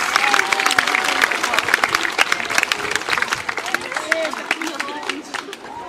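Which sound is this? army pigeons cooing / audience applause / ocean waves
audience applause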